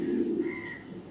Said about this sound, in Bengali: এটা একটা ফিমেল কবুতর, ওভার লাইট কালারের দোবাস কবুতর।